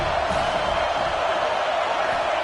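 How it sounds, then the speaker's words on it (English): A packed Alabama Crimson Tide football stadium roars on third down, a dense, steady wall of crowd cheering and noise that holds loud and unbroken throughout. "The Tide crowd rolling noise down onto Saban Field on third down."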